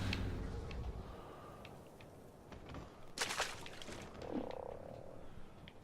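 A frog croaks in the ARK video game, with low, grating croaks over a steady background hiss and a few soft clicks in between.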